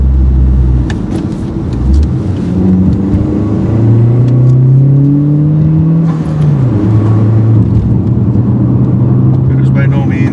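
A 2014 Chevy Cruze with a manual transmission accelerating, the engine loud and close, its pitch climbing in long rising sweeps through the gears over a rumbling road noise.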